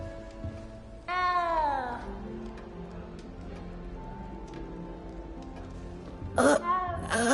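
A frightened cat in the video game Hogwarts Legacy gives a long, wavering meow, then another sharp, rising cry near the end, close and clear over quiet game ambience.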